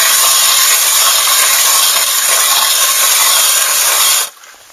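A Nils 8-inch hand ice auger grinds through ice outdoors on a cold day, a loud, steady, gritty scraping that runs continuously and then stops abruptly near the end.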